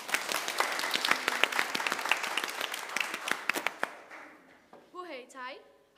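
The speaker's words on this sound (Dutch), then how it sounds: "U mag best wel even voor hem klappen hoor." Audience applause at a primary school's Group 8 farewell evening, dense clapping for about four seconds that thins out and fades, followed by a voice speaking alone at the end.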